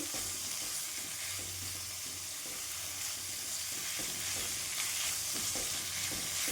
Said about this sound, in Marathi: छान भाजून घ्यायचं पेस्ट छान बनला पाहिजे आणि कांदा पण आपला कच्चा नाही राहिला पाहिजे